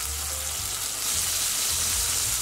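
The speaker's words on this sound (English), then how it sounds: "You wanna make sure to hear that sizzle." Lamb searing in hot oil in a pan gives a steady, close frying sizzle that holds evenly throughout, with no talking.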